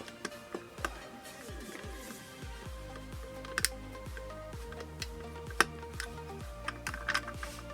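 A screwdriver driving screws into metal parts of a 1/8-scale Altaya K2000 model car, a run of small dry ticks and clicks at an uneven rhythm, close and fairly quiet.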